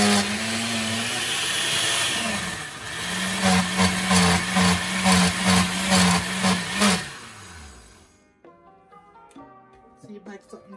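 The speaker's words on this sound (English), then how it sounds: "Don't put your spoon in the blender when it's going." A kitchen blender runs loudly for about seven seconds while making Jamaican beef patties, its whirring motor pulsing in a rhythmic series of surges before it winds down and stops.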